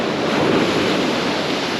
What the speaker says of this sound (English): Now these waves are coming through in definite sets.